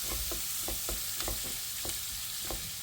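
Meat fries in a pan with a soft, continuous sizzle, punctuated by a series of short spatula scrapes as it is stirred at a quick, uneven rhythm.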